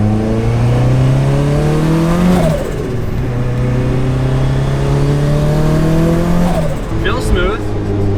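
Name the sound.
car engine revving on test drive after exhaust upgrade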